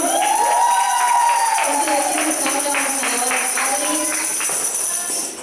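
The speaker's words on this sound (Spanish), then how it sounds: "¿Cuánto le dan un fuerte aplauso al Señor?" A church congregation at a Sunday service claps for the Lord, quick rhythmic claps rising under sung or sustained voices, steady and fairly loud for several seconds before fading.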